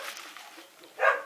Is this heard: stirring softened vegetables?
no